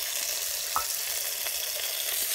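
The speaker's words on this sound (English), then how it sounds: "got some sausage, breakfast sausages going" Breakfast sausages fry in a GSI Duelist camping pan, giving a steady, even sizzling hiss that carries on alone without break.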